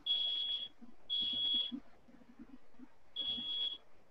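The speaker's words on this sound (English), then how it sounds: "My fire alarm's going off." A home fire alarm sounds in three short, shrill bursts of beeping separated by pauses, with faint talking murmuring underneath.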